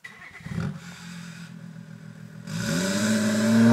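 Audi A5 turbo quattro with a Miltec exhaust revving up close, a rough idle breaking into rising throttle blips that climb louder toward the end.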